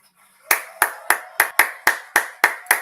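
One person claps about nine times in an even, close rhythm after a Festival da Canção semifinal performance.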